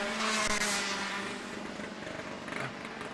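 Rotax racing kart engine with exhaust problems at a national kart race, a harsh buzzing whine with a passing rush of noise, fairly loud and continuous over trackside ambience.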